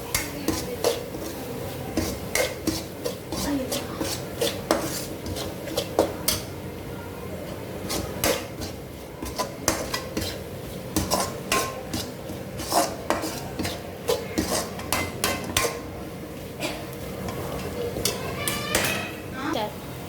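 A spoon steadily stirs coriander powder into a masala mix in a metal pan, with repeated scraping and clinking strokes running close and continuous throughout, and a voice speaking over them.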